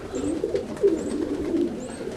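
A roller pigeon hen with almond wing coloring coos softly in a few low, repeated murmurs over a steady background, with no one talking.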